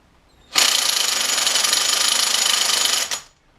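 An electric spanner spins an alternator with a steady, loud, buzzing whir that starts abruptly, holds evenly for about two and a half seconds, then cuts off with a brief final rattle.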